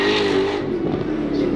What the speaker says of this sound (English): We got a burnout here? Someone doing a burnout?